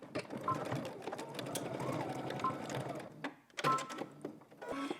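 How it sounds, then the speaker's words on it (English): A sewing machine stitches a pocket on a Simplicity S9893 garment, with back stitching at the start and end: loud, close, steady mechanical whirring runs for about three seconds, then breaks into shorter bursts and pauses. "So let's head over to the sewing machine and go ahead and do this"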